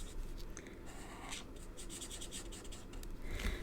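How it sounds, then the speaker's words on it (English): A pen scratches continuously across a card, drawing small circles in a steady, close, soft rubbing rhythm with faint squeaky strokes. "And now I'm just drawing circles, going round in circles."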